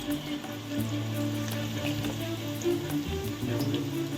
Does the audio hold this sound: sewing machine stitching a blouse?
no